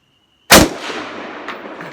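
A single loud gunshot from a Ruger AR-15 rifle fired outdoors cracks sharply out of near silence and then rolls away in a long fading echo.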